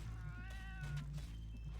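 A pet cat in the PC video game FATE gives a single drawn-out meow with a rising and falling tone, set over a low, steady game background hum.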